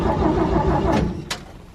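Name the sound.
Chevrolet C10 truck engine cranking and trying to start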